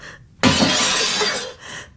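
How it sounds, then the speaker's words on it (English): A mirror smashes with a single blow, silvered glass shattering in a loud, sudden crash followed by a rush of tinkling fragments falling to the floor. "With one blow I smashed it. Fragments of silvered glass tumbled to the floor."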